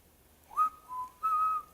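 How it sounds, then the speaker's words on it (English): A person whistles while working, giving three clear tones: a rising note, a lower held note, then a longer steady note. The whistling is close and alone, with no talking. "I like to whistle while I work too."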